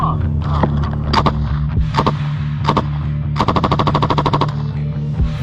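Machine gun fire in a combat zone in Ukraine, with several short, loud bursts of rapid shots, including a longer sustained burst near the middle, close and sharp against a constant low background rumble.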